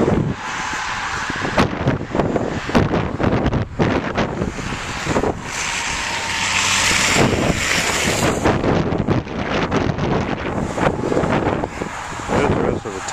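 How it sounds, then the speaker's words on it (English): Wind buffets a microphone outdoors during a walk to work, a loud, continuous rumbling roar with gusty bursts throughout. "That's windy as shit."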